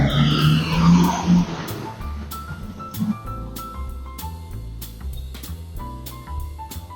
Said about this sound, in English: you can hear the gas and you can hear the engine rev